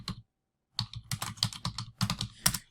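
Fast, close typing on a computer keyboard during After Effects work, with a name typed and Enter pressed: a short tap, a pause, then a dense run of crisp keystrokes, clear and without talk.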